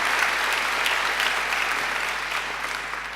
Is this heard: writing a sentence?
no